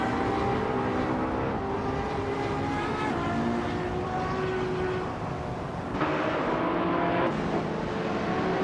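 Racing cars run side by side fighting for position, a steady loud engine drone with overlapping whining tones and slight shifts as they pass, continuous throughout with no talk.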